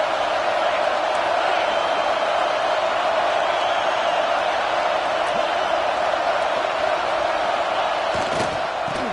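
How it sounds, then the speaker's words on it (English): Steady, loud stadium crowd roar from a simulated college football bowl game, Penn State at Oklahoma in the Cheez-It Bowl in College Football 26, a dense wall of noise holding level throughout with scattered faint shouts inside it. "This crowd trying to make life miserable for this offense."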